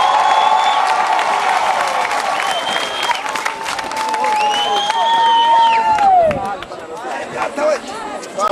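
A church congregation clapping together, loud continuous applause with scattered cheers while a voice carries over it, the clapping thinning toward the end.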